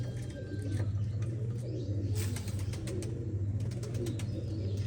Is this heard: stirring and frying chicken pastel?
no